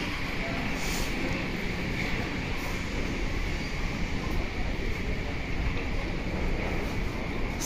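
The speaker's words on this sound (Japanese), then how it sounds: "路面電車が飛び込んでまいりました。" An old-style streetcar pulls into the tram stop at Hiroshima Station, a continuous broad rumble and rolling rail noise, loud and close, with faint street ambience mixed in.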